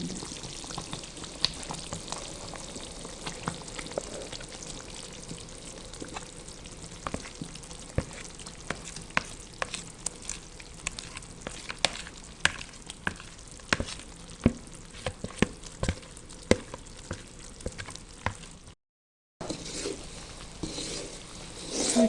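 Semolina poured and stirred into a milky makhandi halwa syrup in a pan over a low flame: a soft continuous sizzle with scattered scraping and tapping stirs, close and quiet, ending with a short gap.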